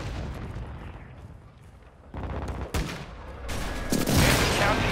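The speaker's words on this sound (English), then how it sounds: "Hostile airstrike incoming." An airstrike in a Call of Duty Modern Warfare 2 match sets off explosions: sparse distant pops build into a dense, loud rumble of blasts and gunfire toward the end.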